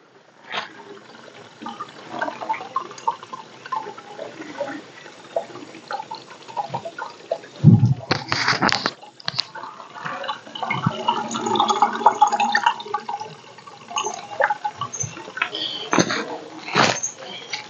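Water flowing out from a spring beneath an amate tree, a continuous outdoor trickle and splash heard from close by, with occasional bumps and handling noises.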